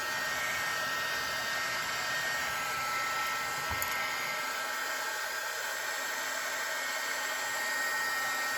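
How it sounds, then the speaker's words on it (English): A heat gun blowing hot air over alcohol inks on EVO paper, a steady close broadband whoosh that holds for the whole stretch with one brief knock partway through. "I'm going to get my heat gun again. It's going to blow a little bit around"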